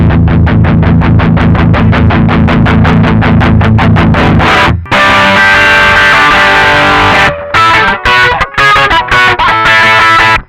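Electric guitar driven through a Fulltone OCD overdrive pedal while its tone knob is turned, loud and continuous: a run of rapidly repeated distorted picked notes, then ringing sustained chords, then choppy stop-start strums with short silent gaps.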